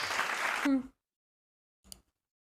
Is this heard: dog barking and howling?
no